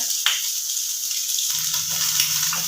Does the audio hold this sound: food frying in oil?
yes